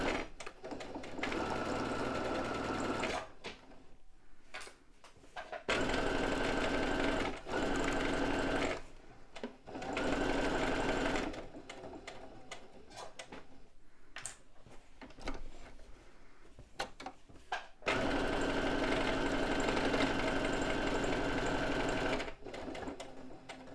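A sewing machine stitches a tote bag in several long runs of steady, fast mechanical whirring, broken by short pauses, heard close with no speech.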